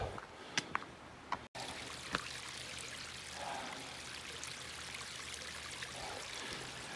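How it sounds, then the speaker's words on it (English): Spring water flowing out of the ground beside a late-season hiking trail at Grassi Lakes in Canmore, Alberta, a steady, fairly faint trickling stream with a few soft clicks early on, with no talking. "It's always neat when water just comes out of no place, out of the ground."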